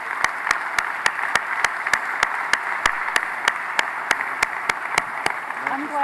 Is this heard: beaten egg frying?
no